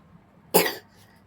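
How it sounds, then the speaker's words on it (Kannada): A single sharp cough from a person nearby, loud and short in an otherwise quiet room, with no talking around it. "ಕೆಮ್ಮು"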